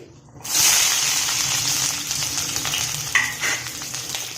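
A sudden loud sizzle as food drops into hot oil, then a steady crackling fry with occasional stirring clinks.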